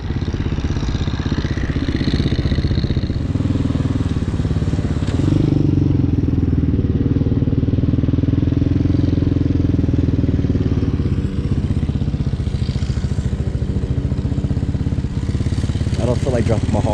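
A Hawk 250cc motorcycle engine runs steadily throughout while riding, a loud, continuous mid-pitched drone with a rider talking over it.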